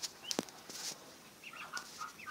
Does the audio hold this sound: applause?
no